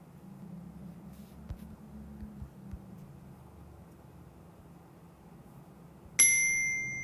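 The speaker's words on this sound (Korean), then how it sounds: "네, 정답입니다 얘기하면서 이제 소리가 딩동댕 나오죠." A ding-dong correct-answer chime from a children's Entry coding quiz program rings out once, bright and clear, near the end after a stretch of quiet low hum.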